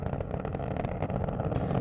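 Roar of Space Shuttle Atlantis's three liquid-fuel main engines during launch, a dense, continuous broadband rumble with crackling texture, steady and loud throughout.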